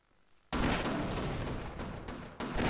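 A gun turret firing in Half-Life Source: after a short quiet moment, a sudden loud, continuous burst of rapid automatic fire runs to the end, briefly swelling again near the close.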